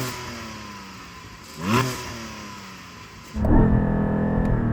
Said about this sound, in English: I'm going to start off with this Cayman GT4 4-litre naturally aspirated flat-six